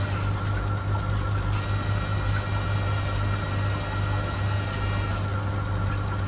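A small KH Guardian alkalinity tester pump whirs steadily with a mechanical, robot-like drone and a high whine that shifts partway through, running continuously at close range.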